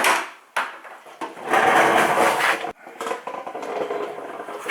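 Plastic trim clips being pried and popped out of a Honda Ridgeline interior trim panel, giving close scraping, rubbing and knocking sounds with a few sharp clicks and brief pauses between them.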